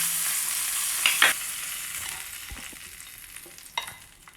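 Cardamom powder being stirred into payasam in a pot just taken off the stove, a few quiet scraping and clinking strokes of a spoon against the vessel over a soft residual hiss, close and faint.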